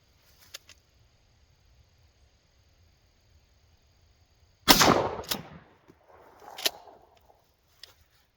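A Mossberg 590 12 gauge shotgun with an improved cylinder choke fires Federal Premium Flight Control 2 3/4 inch buckshot: one loud, sharp blast with a ringing decay, followed by softer clunks and a fainter report in the quiet.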